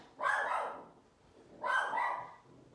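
A dog gives two loud, close barks about a second and a half apart, with quiet in between and no voices.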